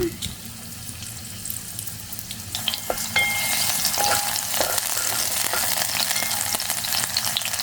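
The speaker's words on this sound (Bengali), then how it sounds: "হালকা করে তেল মরিচ কাঁচা মরিচ কুচি করে রেখেছি দিয়ে দিলাম" Chopped green chillies drop into hot oil and start frying, the sizzle swelling into a loud, close hiss after a quieter start, with occasional scraping or clinking from utensils.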